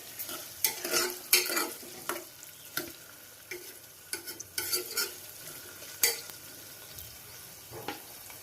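Potatoes fry in a pan for a cucumber (dosakaya) curry, sizzling steadily while a spoon scrapes and stirs them in a run of irregular clinks and scrapes, close up with no talk.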